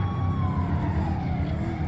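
A police car siren in GTA V wails in rising and falling sweeps during a bank-robbery chase, loud and continuous over a low engine rumble.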